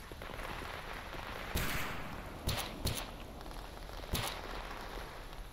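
Pistol gunfire rings out in the video game STALKER: four sharp reports, spaced irregularly, over a low hissing background.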